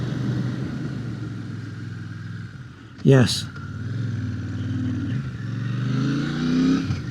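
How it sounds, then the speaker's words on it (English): A Royal Enfield Shotgun 650 engine drones as the motorcycle slows hard in an emergency stop, the engine note dropping and then building again, with wind noise and a short spoken word heard over it. "so let's give it a quick brake check"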